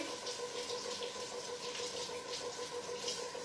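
A steady, faint stream of tap water runs continuously into a sink while dried duck breast is rinsed in a home kitchen, with no talk over it.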